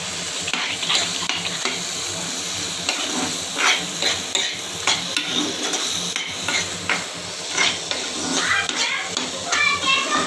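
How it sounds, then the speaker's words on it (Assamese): Taro sizzles steadily in a hot pan while a utensil stirs it, scraping and clacking in irregular strokes, with faint voices in the background. "ভালদৰে লৰাই দিওঁ।"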